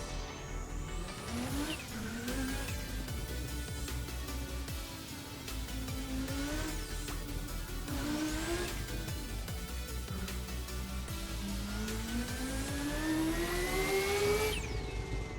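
A Pikes Peak race car's engine revs hard at the Nürburgring, whining up through rising gears in repeated sweeps, loud and close, climbing to a high scream near the end.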